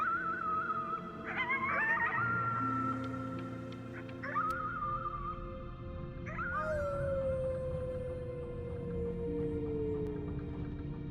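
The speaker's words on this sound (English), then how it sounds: "You howled at the moon, at the top of your lungs." A wavering howl at the moon from the video game Before Your Eyes, rising and sliding in several long, tonal, dog-like cries over a low droning musical background.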